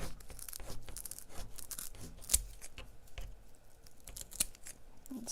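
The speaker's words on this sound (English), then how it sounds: "I'm going to cut this down." Scissors snip through poly deco mesh for a Halloween cat wreath, heard as a rapid series of close, crisp cutting and rustling sounds with a couple of sharper clicks, no talk.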